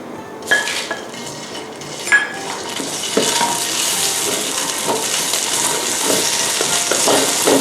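Steady sizzling and scraping of Thai curry paste frying in a Teflon pan, with a few metallic clanks of a utensil against the pan early on; no voices.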